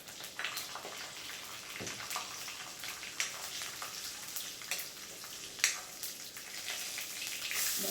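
Curry leaves crackle softly in hot oil with salt and cinnamon, a quiet, continuous sizzle broken by scattered brief pops.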